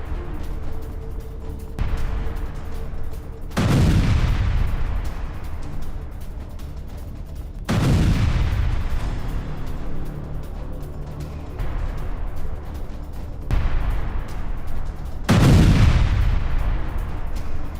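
Ukrainian HIMARS rocket strikes in Kherson: four heavy booming blasts about four seconds apart, each a sharp crack that fades into a long rumbling tail, over a constant low roar and with no voices.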